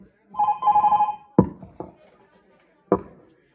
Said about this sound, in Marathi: फोन येतात बघ किती